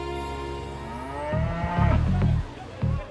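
Cattle mooing at a busy cattle market in the Coimbatore region, with a long drawn-out low moo followed by several overlapping calls from nearby animals, loud and close.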